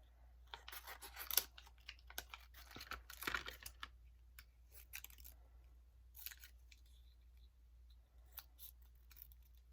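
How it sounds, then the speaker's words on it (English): Scissors rough-cutting stickers, a series of close crisp snips and paper rustles in irregular bursts, quiet and without speech. "So I'm just going to cut these stickers"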